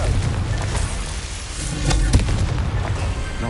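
A Confringo blasting spell in Hogwarts Legacy erupts as a loud, close explosive boom with a sharp burst near the middle, surrounded by rumbling blast noise and no talk.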